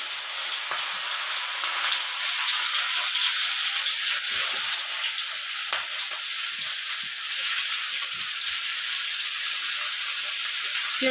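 Chopped onions sizzle and fry steadily in a hot pan with cumin, cooking down for a capsicum stuffing, a continuous close hiss with faint stirring scrapes and no voices.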